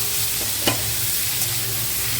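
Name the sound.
fried taro added to masala, sizzling and stirring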